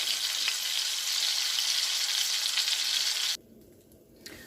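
Rolled-out keto dough sizzling in a hot pan, a steady bright hiss of frying that holds evenly for over three seconds and then cuts off abruptly to near quiet, with one faint knock after.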